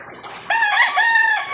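A rooster crows close by, a loud, tonal, stretched call lasting about a second over faint background noise, at a backyard gamefowl breeding setup.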